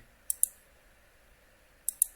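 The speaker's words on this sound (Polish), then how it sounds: "Ej, źle sobie klikam." Computer mouse clicks while playing Farming Simulator 22: two quick pairs of crisp, close clicks about a second and a half apart, over a quiet background.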